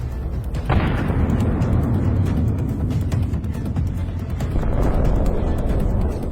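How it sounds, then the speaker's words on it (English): A Russian ammunition truck explodes with a deep boom that rumbles on, followed by a second rolling blast, loud and heavy throughout. "The explosion turned out to be truly spectacular."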